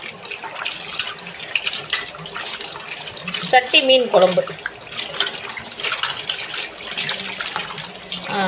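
Tap water runs steadily into a sink while fish are washed for a fish curry, with splashing and handling noise and a voice speaking over it.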